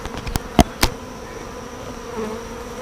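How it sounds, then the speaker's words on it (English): Honeybee swarm buzzing as it settles on a tree branch, a continuous hum with a few sharp knocks and clicks early on, fairly close and with no talk. "There's a swarm settling in"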